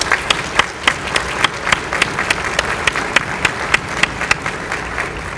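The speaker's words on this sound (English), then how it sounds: "if we could just join in a round of applause for them" Gala audience at an entrepreneurial forum breaking into steady sustained applause, dense clapping throughout at moderate loudness with no talk over it.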